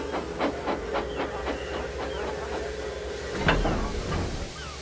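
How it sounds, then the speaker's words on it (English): A steam train known as the Flying Kipper in a Roblox game, chuffing in a steady rhythm of exhaust beats with a constant steam hiss, followed by a louder burst of steam release. "This is the train the railwaymen call the Flying Kipper."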